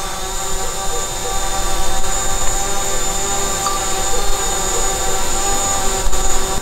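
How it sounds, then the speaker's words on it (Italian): DJI drone hovering in Follow Me mode, a steady high-pitched whine of spinning rotors with a broad whooshing hum, held constant and fairly loud throughout with no voices. "Follow Me Mode attivata e adesso il drone dovrebbe seguirmi."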